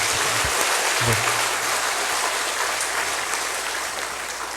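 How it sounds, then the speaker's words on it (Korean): A church congregation applauds a children's dance team of fourth to sixth graders. Loud, dense clapping fills the room and holds steady before easing slightly at the close. "다시 한번 큰 박수로 좀 격려해 주니다."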